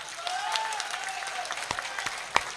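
At a Hindi poetry gathering (kavi sammelan) in Bareilly, a crowd claps briefly and fairly faintly, scattered hand claps with a couple of sharper slaps near the end.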